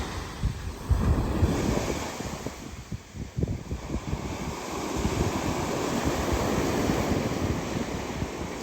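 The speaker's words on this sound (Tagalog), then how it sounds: "Lakas nga na yung alon." Strong ocean surf rolls onto a beach in Quezon Province, Philippines, close by, heavy crashing and rushing water mixed with gusts of wind across the microphone.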